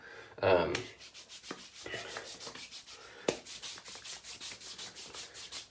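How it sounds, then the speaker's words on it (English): Hands rub excess aftershave into skin after a shave, a soft series of repeated rubbing and patting strokes, close and fairly quiet, with one sharper slap partway through. "Get the aftershave, the excess aftershave on my skin."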